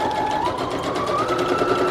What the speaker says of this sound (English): I really like to take my sewing machine and I just do a few lines back and